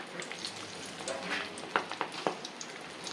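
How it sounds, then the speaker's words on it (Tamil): Vegetable pakoda batter with beetroot and carrot, pinched into hot oil, fries with a steady dense crackle and occasional sharper pops, close and alone. "கிள்ளி போட்டு பொரிக்க போகிறேன்"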